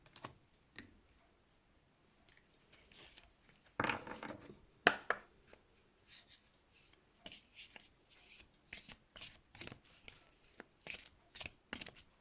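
Tarot cards shuffled and drawn by hand, a long riffling burst followed by a string of short crisp slaps and flicks as individual cards are laid down, close and fairly quiet with no talking.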